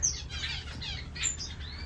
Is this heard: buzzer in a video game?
no